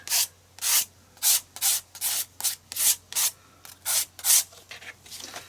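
About a dozen rhythmic scraping strokes drag paint across a surface, evenly spaced and close, each a rough hiss, with no talking.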